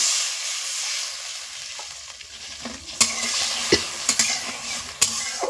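Green chili chutney sizzles steadily in a pan after water is added, with a stirring spoon striking the pan several times in sharp, close clicks over the constant hiss.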